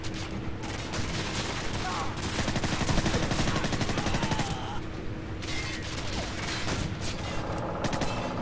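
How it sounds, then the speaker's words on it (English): Gunfire in Call of Duty 4, including a shotgun blast, rattles on without a break as a dense, continuous barrage of shots and bursts, with game noise and voices mixed underneath. "Someone just got shot in the head with a shotgun"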